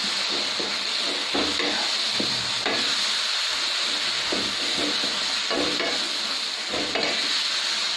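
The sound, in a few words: mashing boiled mango in a pot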